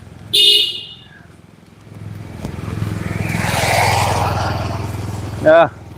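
A motorcycle approaches along a village road in rural Bangladesh, its engine hum building steadily and growing nearer over several seconds, with short horn toots at the start and end.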